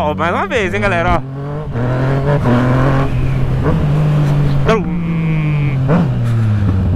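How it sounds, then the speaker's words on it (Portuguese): A Yamaha MT-09 motorcycle revs hard nearby, its engine note rising and dropping through gear shifts with sharp pops between them, while someone talks over it almost throughout. "vocês viram o pipoco que dá na hora que troca de marcha, assim, quando eu troco acelerando"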